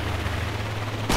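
Gunfire in the video game Fortnite during a squads match, a steady dense burst of game shots with a low sustained rumble, ending in a louder sharp crack, close and without talk.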